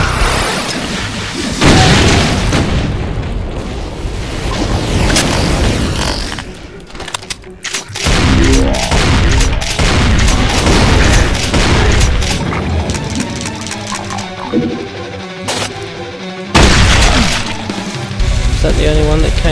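Rocket launcher blasts and explosions in the video game Brutal DOOM 2, a series of loud booming impacts and bursts of gunfire packed closely together over the whole stretch, with heavy low rumble between hits.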